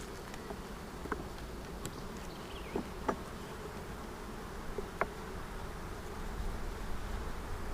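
Honeybees buzz around an open hive during an inspection, a dense, continuous hum close by, with a few sharper passes of single bees darting near.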